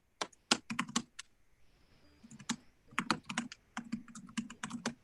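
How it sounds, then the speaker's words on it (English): Computer keyboard typing picked up on an open microphone during a remote committee meeting, in quick irregular bursts of clicky keystrokes with short pauses, close and fairly loud, with no one speaking. "Oh, who's typing?"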